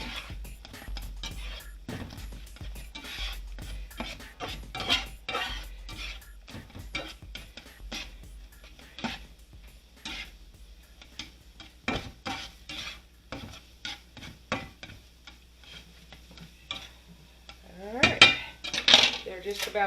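A spatula scrapes and folds eggs in a skillet, giving a run of irregular metallic clinks and scraping taps with a faint sizzle beneath, with no talk over it.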